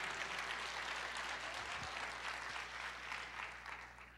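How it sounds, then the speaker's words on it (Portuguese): A church congregation claps during a sermon, a sustained even wash of applause with no voices rising above it, over a faint steady hum. "Você pode aplaudir o Senhor"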